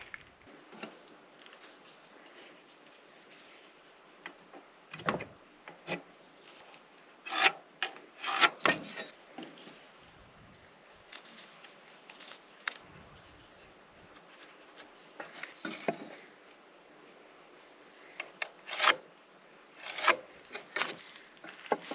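Hand marking and sawing of timber for mortise and tenon joints in a barn conversion, heard as scattered rasping and rubbing strokes with short louder bursts, close by with no talk.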